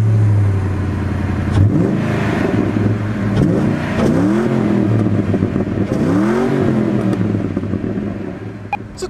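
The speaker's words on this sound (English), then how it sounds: "our particular Mustang GT has aftermarket exhaust, which gives it a pretty good rumble" A Ford Mustang GT with an aftermarket exhaust rumbles at a steady idle close by, then gets blipped into a few rising and falling revs before settling back to a deep, loud burble.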